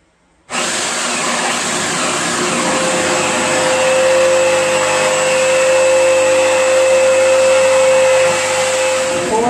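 A jigsaw cutting a round port hole in a wooden subwoofer box starts abruptly and runs continuously, a loud, steady whining buzz that holds almost unchanged to the end, with no talking.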